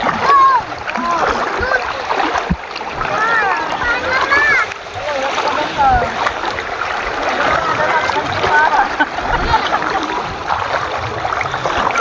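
Splashing in open sea water during a swim, near and steady throughout, with a voice and other people talking over the water noise.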